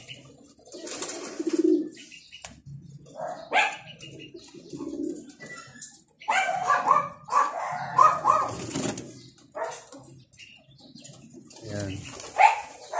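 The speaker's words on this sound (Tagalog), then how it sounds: "Mga ibon." Pigeons coo in a loft, with repeated soft, low throaty calls close by, mixed with dogs barking and other bird calls in bursts; a person talks at times.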